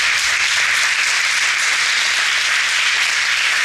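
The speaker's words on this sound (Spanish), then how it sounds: "Dale un aplauso al Señor." Sustained applause from a church congregation after a closing prayer, many hands clapping evenly and continuously at close range, with no speech over it.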